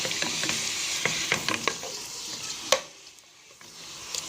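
Cut pieces of meat fry in melted oil and ghee in a pan for a Chtitha Lham stew, a dense close sizzle with scattered sharp crackles and stirring knocks that eases off toward the end.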